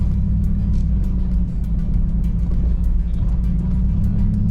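A 2021 Chevy Silverado Trail Boss drives off-road through thick mud in Rabbit Valley, Colorado, with a loud, steady low engine rumble holding speed throughout, along with scattered splatter and ticks from mud slinging against the truck.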